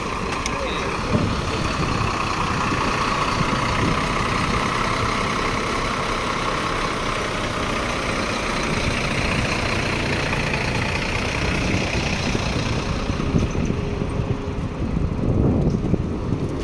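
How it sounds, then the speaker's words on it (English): A tour bus from Italy idles nearby with a steady low engine rumble that holds evenly throughout, mixed with outdoor wind and faint background activity. "And a bus from Italy."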